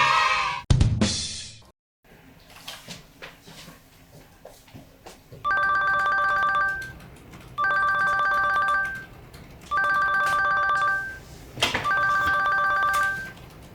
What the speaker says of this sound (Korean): 빨리 전화 좀 받아.